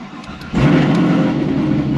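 A Stage 5 Chevrolet Camaro ZL1 engine pulls hard through the gears, a loud, close, sustained roar that jumps up sharply after a brief quieter idle and holds steady.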